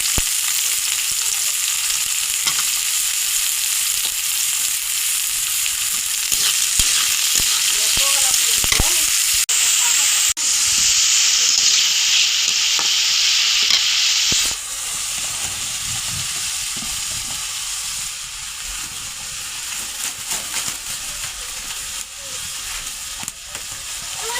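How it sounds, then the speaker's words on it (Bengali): Chopped onions sizzle loudly in a hot oiled wok, stirred with occasional scraping clatter; a steady hiss shifts partway through as the cooking settles, continuing without pause. "পেঁয়াজটা ভালো করে একটু ভাজা করে নিব, নাড়াচাড়া দিয়ে"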